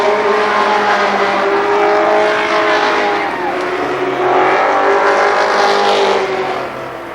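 ARCA Pro 4 race cars at Columbus Motor Speedway in 1996 roar side by side toward the finish, a loud sustained engine howl with shifting pitch that swells, dips and fades slightly at the end.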